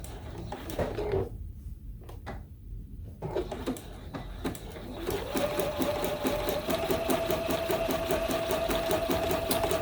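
A sewing machine runs a steady zigzag stitch around an appliqué shape on a Christmas tree quilt top, beginning with a few short stop-and-start bursts before settling into a continuous, fast, even mechanical chatter up close.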